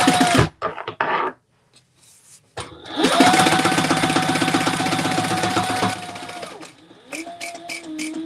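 A sewing machine topstitches a folded-over bag lining in one steady run of about three seconds, with brief fabric handling before and after.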